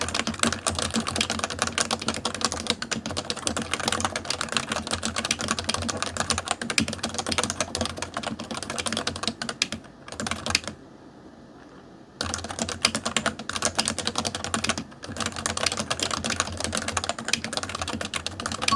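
Rapid, steady typing on a Leopold FC980C capacitive keyboard with soft, muted key thocks, close up, pausing briefly twice before resuming; no voices.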